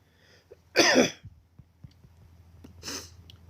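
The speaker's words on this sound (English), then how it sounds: "I still have the cough and the cloggy nose." A person with a lingering cough and congested nose coughs: one strong, close burst near the start and a softer second burst later, with quiet breathing in between.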